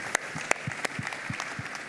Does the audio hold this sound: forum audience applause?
yes